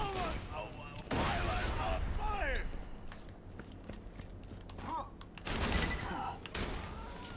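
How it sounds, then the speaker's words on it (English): A shotgun fires in Borderlands 2 amid combat against mercs. Loud blasts land around the one-second and five-and-a-half-second marks, with other gunfire and mechanical clatter between them and a person talking over the action. "this shotgun is amazing"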